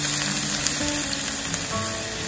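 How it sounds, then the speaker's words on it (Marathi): Colocasia leaves hit hot oil with asafoetida in a pan, a steady close sizzle and crackle lasting a couple of seconds, with no talking. "त्यात हिंग घालून आलूची पानं त्यात फोडणीला घालूया।"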